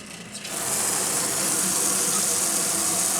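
Water gushes from a tap into the rinse tub of a washing machine, a strong, steady rushing fill that starts abruptly and keeps on at full loudness.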